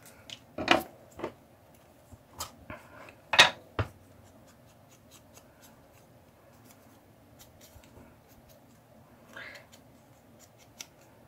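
Scissors cut through paper for a book-page journal craft, with a cluster of crisp, close snips early on followed by a few sparse cuts and quiet handling.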